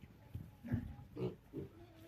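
Vietnamese pigs on a sunny spring farm grunt in a few short, low bursts close by, with quiet pauses between the grunts and no talking.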